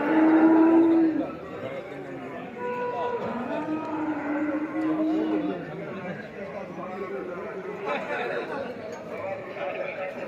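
A cow gives a loud, drawn-out moo at the start, then the low lowing continues faintly under nearby chatter and talk at a cattle market.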